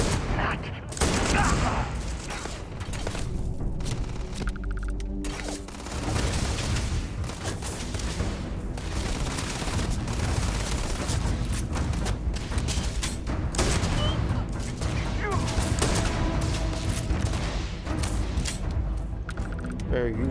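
Sustained gunfire in a Starfield firefight on Xbox Series S, with dense, rapid overlapping shots and bursts that continue loud and close throughout, and voices occasionally heard in the mix.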